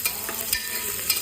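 Onions frying in a pan for kacchi biryani, with faint sizzling and a few soft scrapes of stirring spread across a short stretch, no voices present.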